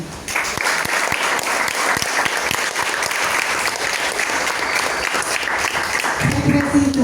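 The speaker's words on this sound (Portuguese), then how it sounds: "vamos lá celebrar esse dia com aplausos aí bem calorosos" Warm, sustained applause from the audience at a poetry recital in a public library in Jaboatão dos Guararapes, steady and close for most of the clip, with a voice starting to speak at the very end.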